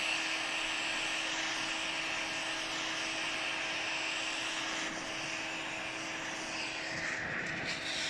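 A gas torch flame roars steadily and loudly while heating a crucible of metal to cast an ingot, with a constant broadband rush and no speech.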